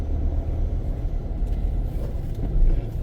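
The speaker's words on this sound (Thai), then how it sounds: "นี่ก็เป็นรถที่ ไปส่ง ผู้โดยสาร" Low rumbling of a nearby car engine idling and moving as it drops off passengers at a railway station, steady throughout with a slight swell at the end, no voices.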